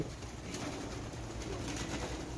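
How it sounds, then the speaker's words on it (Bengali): Pigeons coo softly and continuously, many birds murmuring together in a small loft, with no talking. "এই ছোটো একটা ঘরের মধ্যে এতগুলো কবুতর ফালতেছে"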